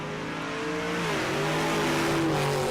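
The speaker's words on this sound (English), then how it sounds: "This is also the loudest Camaro in the world." A very loud 2011 Camaro launches down the drag strip at Mo-Kan Dragway, its engine roaring continuously and rising in pitch with a brief dip as it shifts, heard from trackside.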